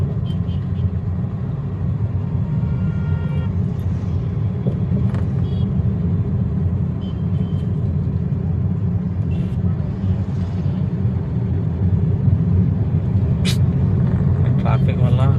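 Road traffic rumbling steadily from engines and passing vehicles, with occasional brake hisses and horn-like tones, while someone talks over it throughout.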